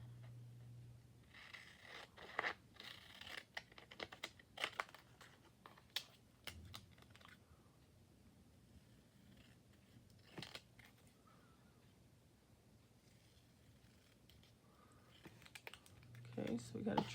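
Scissors snip a paper triangle for a gluebook in scattered quiet clicks and cuts, close but faint, with pauses between bursts of cutting.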